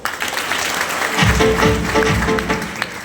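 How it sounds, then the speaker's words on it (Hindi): Scattered applause and clapping from an audience, fairly close, with some crowd noise mixed in and a few louder claps toward the middle. "इसके लिए तालियां बजाओ"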